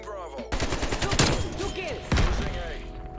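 Rapid bursts of AK-47 fire in the video game Call of Duty Cold War, sharp cracking shots in quick succession with a louder burst near the end, alongside brief game voice chatter.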